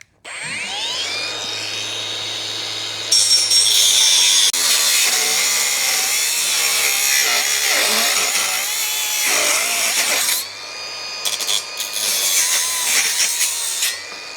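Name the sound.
angle grinder cutting cable trough sections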